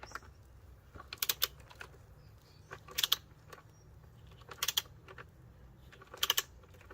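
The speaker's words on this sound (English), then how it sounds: "I've got my torque wrench over here, and I'm going to tighten down the screw at the back" A torque wrench tightens a screw on a BMW oil filter housing in four short bursts of quiet, rapid ratcheting clicks close by, with near silence between them.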